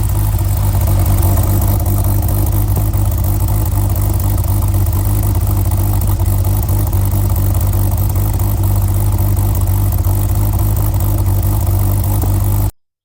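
A 1986 Porsche 911 Turbo coupe idles steadily and loudly close by, its low, even engine rumble holding unchanged for the whole stretch with no voices over it.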